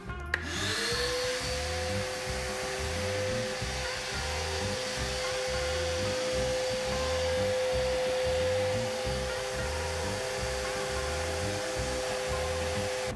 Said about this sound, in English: plug this in and turn it on and pull a vacuum through that cabinet.